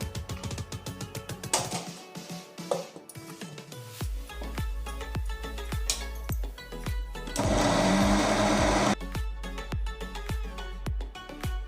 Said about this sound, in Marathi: त्यामध्ये आपण हे उडीद वाटायला टाकतोय.